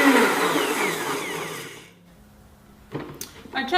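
A BlendTech blender on its smoothie setting blends a green kale smoothie, a loud dense whir with shifting pitch that runs for about two seconds, then stops, leaving quiet with a few small clicks and knocks.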